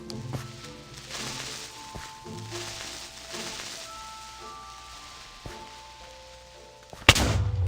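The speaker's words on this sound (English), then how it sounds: "Creeper. Yeah, will you please explode?" A Minecraft creeper blows up in the game near the end as a sudden loud booming blast. Before it, softer in-game rustling, footsteps and tones play for several seconds.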